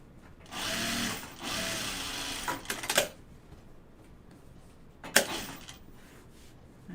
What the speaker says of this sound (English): This time I'll stitch it from this side so I don't have that bump issue.